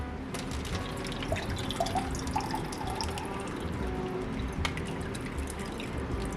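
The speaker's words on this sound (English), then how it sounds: "we need to get this juice poured off." Juice poured off BBQ ribs, coming through as quiet trickling and dripping liquid with small irregular splashes against a soft background hiss, faint and close.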